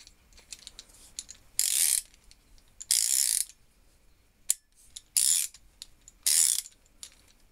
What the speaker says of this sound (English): I would call it a top ratchet.